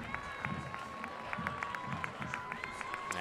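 A stadium crowd at a women's soccer match applauds both teams at the final whistle, a distant, steady wash of clapping and cheering with sharp rhythmic clacks cutting through the crowd noise.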